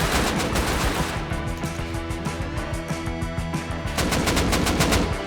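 Rapid automatic AK rifle fire from the video game Rust, with dense overlapping shots and sustained loud bursts throughout that sound like two guns firing at once.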